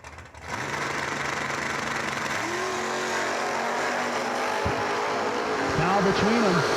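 Two drag race cars, a 1972 Nova and a 1966 Dodge Dart, run at a strip with steady loud engine drone and rising tones, while an announcer talks over it.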